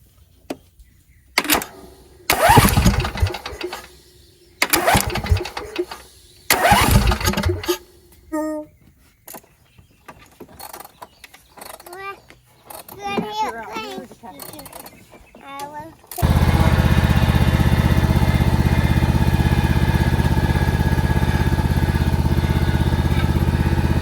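Starter engaging on a small vehicle engine that catches and keeps running, a steady loud drone after some clicking, knocking and a voice speaking beforehand.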